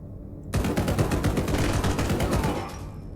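Guards fire guns in Blackout Protocol, a 2023 video game: after a brief quiet moment, a loud, rapid burst of automatic gunfire rattles continuously for about two seconds, then tapers off.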